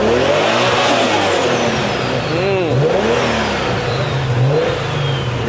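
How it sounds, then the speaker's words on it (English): A car engine revs hard through several rising and falling sweeps at an outdoor car show in Tobago, loud and close, with crowd chatter underneath throughout. "Let me hear that engine roar."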